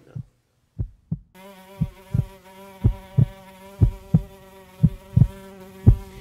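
A fly buzzes in a loud, close, sustained drone, its pitch steady, while soft periodic thumps like a heartbeat pulse underneath. A brief quiet opening comes before the buzzing starts.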